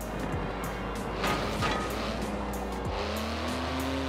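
Porsche 911 with a 3.8-litre twin-turbo flat-six of about 700 horsepower in Forza Horizon 4, a steady engine drone that climbs in pitch through the gears over a soft rush of tyres and road, fairly faint and with no talking.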